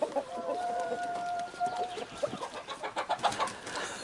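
Chickens, with roosters among them, cluck faintly in short uneven bursts, quiet and somewhat distant in an open yard.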